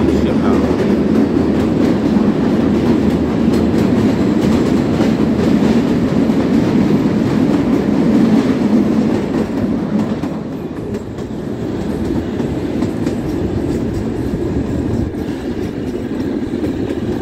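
The Kalka–Shimla toy train rolls along its rails near Jatog station with a loud, continuous rumble and rhythmic wheel clatter that eases a little partway through, and faint talk sits underneath.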